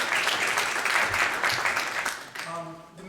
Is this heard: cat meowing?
no